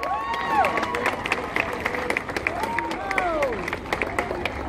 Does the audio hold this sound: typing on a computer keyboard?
no